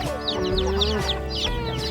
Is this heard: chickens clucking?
yes